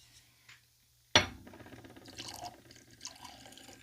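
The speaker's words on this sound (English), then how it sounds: "We're going to go ahead and get a pour on." Irish whiskey is poured into a glass after a sharp clink, a close, quiet stream of liquid with small splashes and trickles that trail off.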